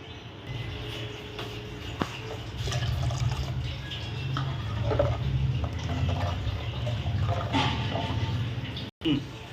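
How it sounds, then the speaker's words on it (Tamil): Two cups of water pour steadily into a clay pot on a stove for several seconds, a close, continuous splashing fill that ends abruptly. "ரெண்டு கப் தண்ணி ஆட் பண்ணிக்கிறேன்"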